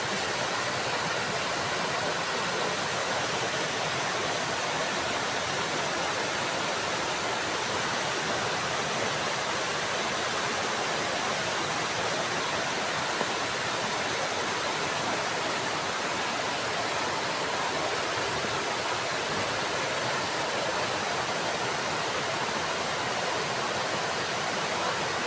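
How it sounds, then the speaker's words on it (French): A waterfall cascading near the Ferpècle dam in the Swiss Alps, a steady, loud, unbroken roar of rushing water that holds at the same level throughout with no other sounds. "Trop beau avec la cascade."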